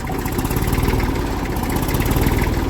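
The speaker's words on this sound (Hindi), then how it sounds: "ट्रैक्टर एकदम से दाएं दाएं चलेगा।" A tractor engine running in second gear on a farm field, chugging loudly and steadily at close range with a fast, even pulsing beat and no talk over it.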